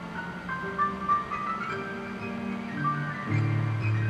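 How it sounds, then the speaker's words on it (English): Plinky, bell-like toy piano notes tinkle over a sustained low backing in a song, slightly out of tune and steady throughout. "it's kind of got that toy piano sound to it."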